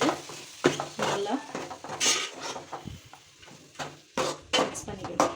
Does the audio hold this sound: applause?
no